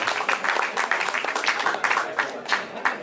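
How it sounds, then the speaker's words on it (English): Audience applause for a comedian at an open mic night at a brew house gallery, a dense steady patter of many hands clapping close by, with a few whoops or voices mixed in. "Clap it up for him."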